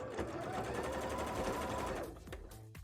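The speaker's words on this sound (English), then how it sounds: "Since I want to do my top stitch." A sewing machine top stitching a bra runs in a fast, steady mechanical whir for about two seconds, then slows and stops with a few clicks.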